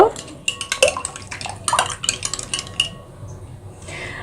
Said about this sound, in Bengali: শুকনো মরিচের গুঁড়াটা দিয়ে দিলাম ভালো করে আমি মিক্সড করে নিব